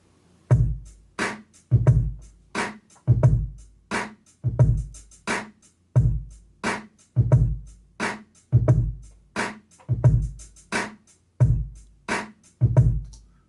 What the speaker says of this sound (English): what you're hearing now is Logic playing back the MPC sounds as Midi.